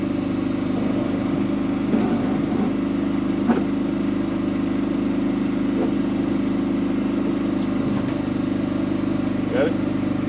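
A service truck engine runs steadily while the clutch is let out, a continuous mid-pitched drone up close with faint clicks and knocks over the top.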